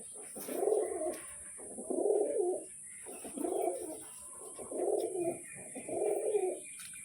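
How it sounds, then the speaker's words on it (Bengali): Pigeons coo in five evenly spaced, soft burbling phrases against a steady high hiss, with no talking. "পায়রাগুলো কিন্তু দারুণ দারুণ পায়রা আছে"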